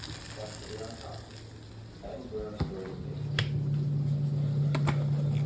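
Kashmiri chili and a pinch of red chili powder sautéing in hot oil for a mild vegetable curry, a steady low sizzle with a few sharp crackles and pops, growing louder toward the end.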